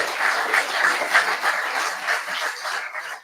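Audience applause at a formal ceremony with the Prime Minister present, a steady wash of many hands clapping at moderate loudness that thins out toward the end.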